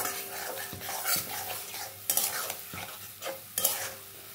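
Spice masala for a paneer and potato curry stirred and sautéed in a pan with a little water, a continuous close sizzle punctuated by scraping spoon strokes and a few metallic clinks against the pan, no voices.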